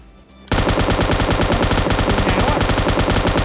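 Close-range automatic gunfire in PUBG Mobile on the desert map, with an M249 in the loadout: after a brief quiet moment a loud, unbroken burst of rapid shots rattles on steadily for about three seconds.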